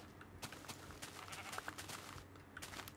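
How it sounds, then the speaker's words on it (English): Sheep bleating in the video game Minecraft, with a few short, soft bleats over a steady background ambience. "Come here, sheep."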